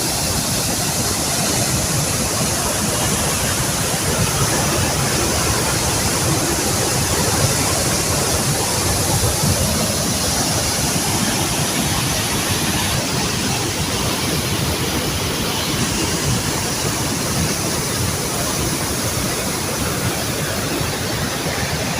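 Steady, loud rush of Dudhsagar waterfall roaring continuously and close by, a broad unbroken wash of sound with no voices.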